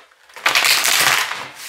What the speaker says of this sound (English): I'm shuffling so much.